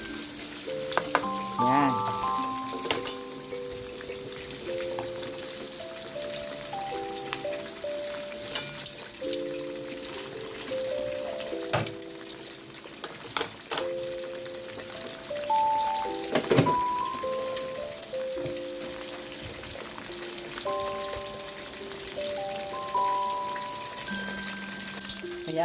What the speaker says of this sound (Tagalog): Lagyan daw ng dahon ng saging para hindi magtatalsikan yung mantika.